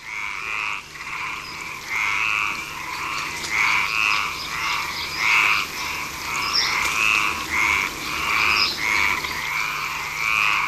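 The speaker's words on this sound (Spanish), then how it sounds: "solo pequeños animales, como esta rana de San Antón, viven en la lujuriosa selva prehistórica de Garajonay" A San Antón tree frog croaks in the lush Garajonay forest, its rapid rhythmic calls repeating steadily in close, loud pulses with a faint constant background hum and no voices.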